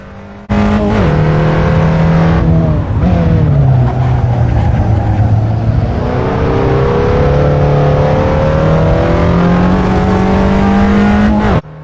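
A race car engine roars loud and steady through a hot lap in Assetto Corsa, its pitch climbing and dipping with shifts and braking, then rising again through a long pull, with no talk over it.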